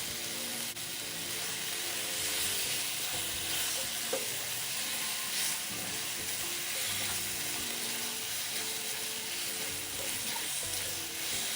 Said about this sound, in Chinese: 最后将冷却后的南瓜蒜盘子捞出，加入锅里，与食材一起炒匀。